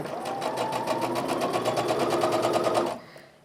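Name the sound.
sewing machine stitching fabric pieces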